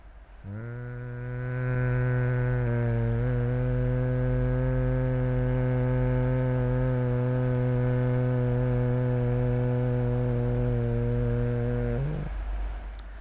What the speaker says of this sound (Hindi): नाक से आवाज़ के साथ श्वास को निकालना है